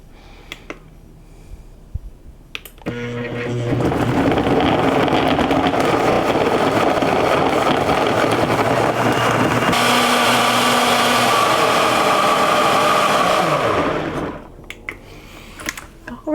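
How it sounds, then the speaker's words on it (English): Countertop blender whirring through tropical ice cream ingredients, a loud steady motor roar that runs about ten seconds, shifting pitch midway as the mixture smooths, with quiet clicks and handling before and after. "I'm going to put the lid on and give it a good mix till all of this is smooth and creamy."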